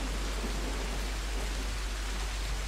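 Steady rain falls outside, a constant, even hiss of moderate loudness with a low electrical hum underneath and no voices.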